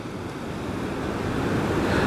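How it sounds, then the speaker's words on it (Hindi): Meltwater from a frozen waterfall at Bumla Pass streams downhill toward Sangestar Tso lake, a steady rushing wash of flowing water that swells slightly louder over the moment, with no voices. "और यही जो पानी पिघल के जा रहा है नीचे, और ये सीधा डायरेक्ट जा रहा है संगेस्टर लेक"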